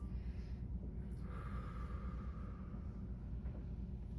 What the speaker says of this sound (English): you're going to exhale slowly through your mouth for 4,